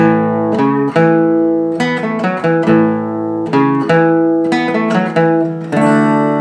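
Clean electric guitar playing a bass-line riff of quick hammer-ons and pull-offs on the 5th, 4th and 3rd strings, with sustained chord tones ringing between short phrases, close and solo.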